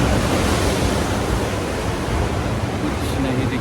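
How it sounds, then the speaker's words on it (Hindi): Loud ocean waves crashing at Diamond Bay, Sydney: a constant roaring wash of surf fills the whole clip, close and heavy with no break. "लहरों का शोर इतना ज़्यादा है कि आप मेरी आवाज़ भी सुन नहीं पा रहे हैं।"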